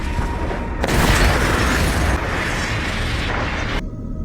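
Bomb explosion from the film Alien Dawn: a sudden loud boom that swells into a long, roaring rumble for about three seconds before cutting off abruptly.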